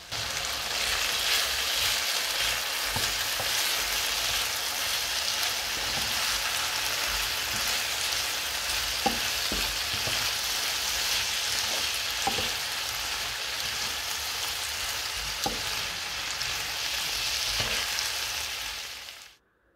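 Coriander carrots and mushrooms sauté in a nearly dry pan with cooked onions, giving a steady, dense sizzle throughout, broken by a few soft clicks of stirring, before it cuts off abruptly at the end.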